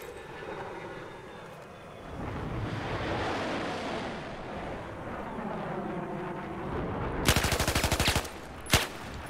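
Gunfire in the video game Battlefield 4, set against a droning aircraft engine roar; late on, a rapid machine-gun burst rattles out loudly, followed by a single sharp shot.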